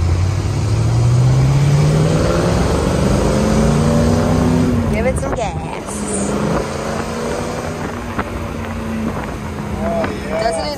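A 1956 Chevrolet Corvette drives along a road, its engine note rising steadily as it accelerates, with wind rush and road noise, then settling into a steady drone while people talk inside the car.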